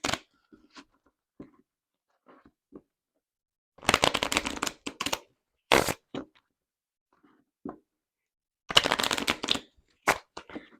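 Tarot and Lenormand cards are shuffled by hand in several short, crisp riffling bursts, separated by quiet pauses with small taps and handling sounds.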